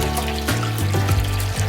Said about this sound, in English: Simply insert the non-stick cast grill rack and pour water into the grill